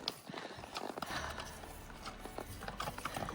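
A young horse's hooves clip-clop at a walk on a dirt trail on the Lake Solitude Loop, a steady uneven plodding with faint outdoor background noise.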